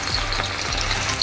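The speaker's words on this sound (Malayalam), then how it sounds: "ഇനി 3 സവാള നൈസായി അരിഞ്ഞത് എണ്ണയിൽ വറുത്ത് കോരണം." Three finely sliced onions frying in hot oil for beef kabiri rice, a dense steady sizzle with crackling pops and occasional stirring scrapes, close and loud with no talking.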